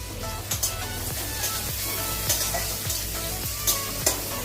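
Chicken and chopped onion fry in a pan for chicken chowmein, sizzling steadily and loudly up close while a spatula stirs and scrapes in regular strokes.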